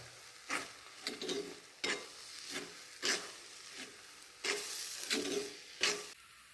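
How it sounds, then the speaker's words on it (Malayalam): A spoon stirs semolina into mashed banana in a bowl, a series of soft, close scraping and squishing strokes repeating about every second, quiet and alone with no talk. "നമുക്ക് ഈ പഴമൊക്കെ ഒന്ന് ഉരുട്ടിയെടുക്കാൻ പാകത്തിന് നമ്മൾ റവ ഇട്ട് കൊടുക്കണം. അതൊന്ന് മിക്സ് ചെയ്ത് കൊടുക്കാം."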